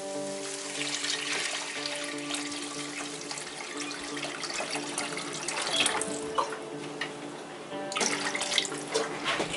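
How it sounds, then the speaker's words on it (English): Six cups of water pour steadily into a soup pot for Vietnamese-style beef, watercress and cilantro soup, a continuous close rushing splash that holds at an even level throughout with no talk. "The recipe calls for 6 cups of water to be added to the pot."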